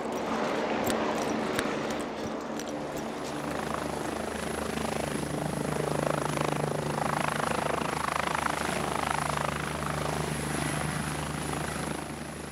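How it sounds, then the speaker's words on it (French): A helicopter flies low overhead, its rotor thump and turbine whine loud and steady throughout, with a high constant tone above the broad engine noise. "l'hélicoptère est nettement plus bas"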